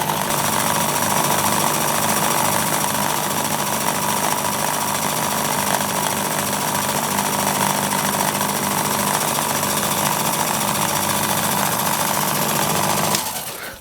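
Steady, continuous high-pitched machining whir from a spot drill cutting into metal for a threaded conrod attachment hole on a small finger engine, running unbroken without speech before stopping abruptly at the end.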